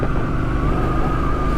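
A V10 motorcycle engine rumbles steadily nearby on a chilly day, a loud continuous droning hum with a sustained tone.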